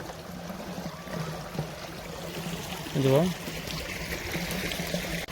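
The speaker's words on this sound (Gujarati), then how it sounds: "હવે જુઓ, આમ ટીપા ટીપા પડે છે." Irrigation water with fungicide mixed in, dripping steadily drop by drop in an ajwain field, a continuous trickle with a brief spoken word in the middle.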